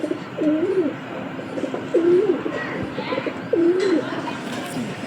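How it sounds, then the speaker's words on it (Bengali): A male and female Kalanka pigeon pair cooing, with three clear rolling coos spaced across the stretch, fairly close, over a busy background of low rumble and faint chatter. "এই একটা কালাঙ্কা পেয়ার আছে, এটা নর, এটা মাদি"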